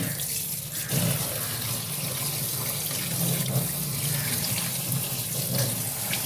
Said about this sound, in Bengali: এইভাবে চটকে চটকে ভালো করে ধুতে হবে বারবার করে এইভাবে আমি ধুয়ে নিলাম শাকটা